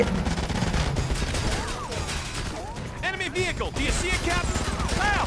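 Dense gunfire crackles in the PS3 shooter Ghost Recon Advanced Warfighter 2, with rapid overlapping bursts, ricochet-like whines and clattering battle noise, loud and close throughout.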